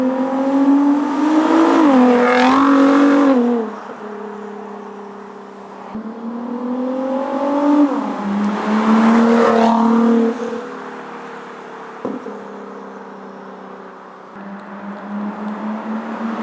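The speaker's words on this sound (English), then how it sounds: "do a few flybys so you guys can hear the exhaust." A Ford GT with a QuickSilver exhaust makes repeated flybys along a road, its engine swelling to a loud revving roar as it approaches and passes, then fading away, with pitch rising and dropping across each pass.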